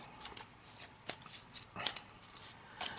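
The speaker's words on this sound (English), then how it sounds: "Now let's just shuffle the cards." A deck of cards gets shuffled in a few quick, faint riffling bursts, each a soft papery flutter with short pauses between, close by and quiet, no talk.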